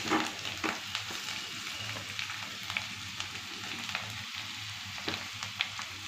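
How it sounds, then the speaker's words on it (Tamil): Boiled potatoes and peas for a mini samosa filling are mashed with spices in a frying pan, a steady soft sizzle with scraping and squishing stirs throughout. "சிம் பண்ணிவிட்டு இந்த உருளைக்கிழங்கு அப்படியே அதில் மசிச்சு விட்டுக்குருவோம்"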